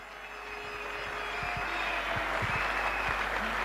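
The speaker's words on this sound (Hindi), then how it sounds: "तो मैं चाहूंगा कि आप गगन भेदी तालियों से इनका स्वागत करें, माई क्राउन वाइफ वनीता जैन।" Audience applause welcoming a speaker onto the stage at a motivational business leadership event, a broad steady clapping wash that swells slightly and holds throughout, with a faint low tonal hum underneath.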